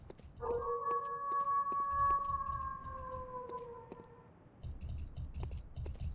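Wolf howls in the video game Bloodborne PSX: a long, sustained, wavering tonal cry holds for about four seconds and slowly drops in pitch, over low rumbling ambience and faint ticking clicks, with no voices.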